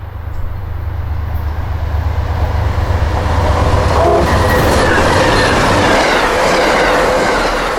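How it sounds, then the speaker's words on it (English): An Amtrak passenger train rolls past in the opposite direction, a loud, continuous close rumble with rail clatter and faint wheel squeal that swells slightly mid-pass. "the passenger train is going in the opposite direction"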